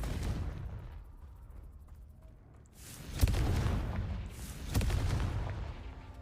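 Two Confringo fire spell blasts go off in Hogwarts Legacy a couple of seconds apart, each a sharp crack followed by a whooshing, roaring burst that trails off, over quiet ambient background.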